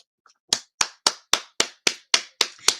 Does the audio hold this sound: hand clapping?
yes